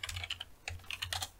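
Quick keystrokes on a computer keyboard enter a short command, a close, quiet burst of crisp clicks in two uneven clusters with a brief pause between.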